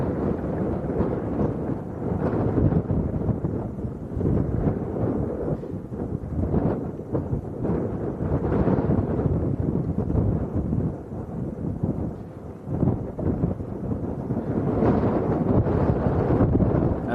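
Strong wind buffets a microphone at Lanzarote's Arrecife airport in a continuous loud, low rumbling roar with gusty surges throughout.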